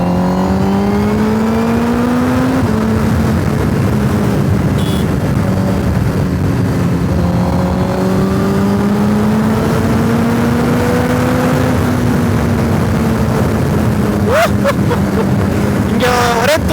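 A Honda HRC edition motorcycle engine drones loudly and continuously while being ridden, its pitch climbing and holding through gear changes, with wind rush and a rider's voice beneath.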